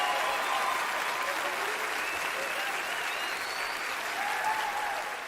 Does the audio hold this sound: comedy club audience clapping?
yes